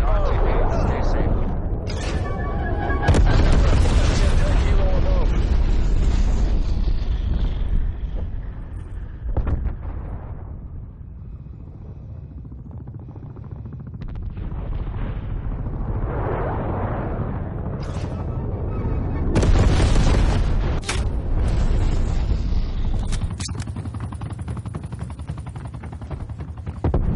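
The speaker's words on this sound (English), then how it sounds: "Artillery inbound. SIDREP, napalm strike inbound." Artillery and napalm strikes in Call of Duty: Black Ops Cold War, heavy booming explosions and rolling blasts mixed with gunfire, loud and close, swelling and fading over a long stretch while voices speak.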